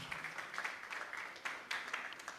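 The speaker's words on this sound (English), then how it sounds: "let's give them a round of applause, please" Audience applause for panelists walking on at a branding panel session, a continuous soft patter of many hands held at a distance, faint and steady with small swells.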